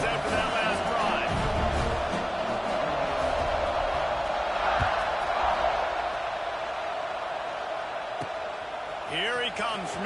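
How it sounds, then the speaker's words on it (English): A football stadium crowd roars steadily after a scoring drive, a dense far-off wash of cheering heard under a play-by-play commentator's voice. "this crowd is feeling themselves after that last drive"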